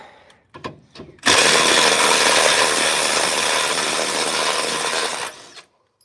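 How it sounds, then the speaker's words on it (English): A Milwaukee impact wrench runs in one sustained burst of about four seconds, loud and close, with a few brief clanks before it. The tool is taking bumper bolts off a lifted 1997 Ford F250 4x4 truck. "It's a tough little impact, or whatever you call these things, from Milwaukee."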